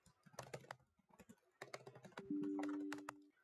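Fast clacking keystrokes on a computer keyboard come in irregular bursts with short pauses, close and fairly quiet, with a brief steady electronic tone near the end.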